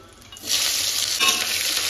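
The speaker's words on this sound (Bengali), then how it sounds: "এটা ভাজা হয়ে গেছে, এবার পেঁয়াজটা দিয়ে দিচ্ছি তেলে।" Onion goes into hot oil already holding bay leaf, dried chilli and cumin, and a sudden loud sizzle swells up and then holds as a dense, close crackle.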